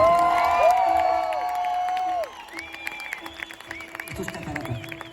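Concert audience clapping and cheering at a show, loud applause with whoops over fading musical tones, dropping to a thinner, more scattered level midway.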